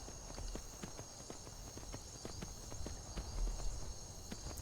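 Horse hooves clip-clopping at a walk in the video game Skyrim, a steady rhythmic run of sharp clops, moderately close, with little else around.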